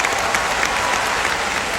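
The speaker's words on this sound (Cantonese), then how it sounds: "聽到你哋嘅每一下掌聲啦" Concert audience applauding at a live show, a dense, steady wash of clapping from a large crowd filling the whole short stretch with no talk over it.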